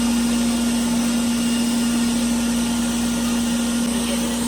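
A laser hair removal machine runs with a steady, loud electrical hum and a constant fan-like hiss, holding evenly with no talk.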